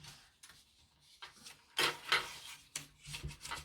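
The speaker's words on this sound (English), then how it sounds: "I'm just going to continue burnishing." A stamped craft card is burnished by hand, giving short dry rubbing strokes in irregular bursts, close and soft, with no talking.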